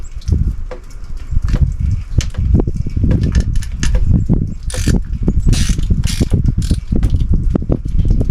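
An 8mm socket on a ratchet wrench is worked during boat engine maintenance, giving bursts of quick clicking and mechanical rattles at close range.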